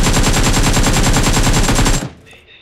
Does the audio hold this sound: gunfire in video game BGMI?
yes